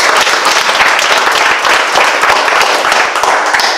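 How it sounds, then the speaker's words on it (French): Lively applause from an audience at a trade chamber event honoring repair artisans, brisk and close, with distinct claps running steadily throughout. "on peut l'applaudir."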